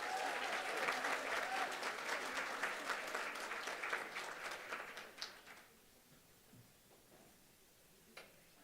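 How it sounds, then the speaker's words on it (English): Audience applause at a women's day lecture series in Provo, a steady wash of many hands clapping that thins out and fades to near silence, with a few stray claps near the end. "Give her a round of applause."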